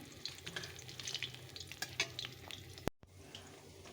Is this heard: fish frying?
yes